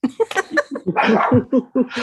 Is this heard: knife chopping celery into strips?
no